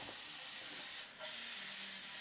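Garlic, ginger, onions and peppers hitting a very hot pan give a steady, loud broadband hiss, continuous throughout with a brief dip midway.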